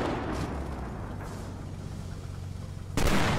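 A BMP armoured vehicle firing rounds in the military shooter game Squad, a single sharp heavy shot breaking through near the end after a sustained rumbling battlefield din of distant fire.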